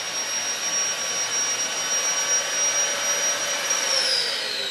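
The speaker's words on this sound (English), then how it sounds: "Blower kicks off." A blower runs steadily, filling a custom 14 ft inflatable video tower with air; a loud continuous broadband roar with a faint high whine holds for the whole stretch, close and without talk.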